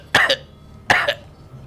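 A voice imitates a man coughing: two short bursts of throaty coughs, each a quick double hack, spaced about a second apart and close to the mic.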